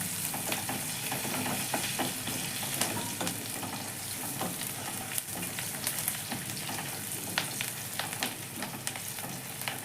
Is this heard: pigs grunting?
no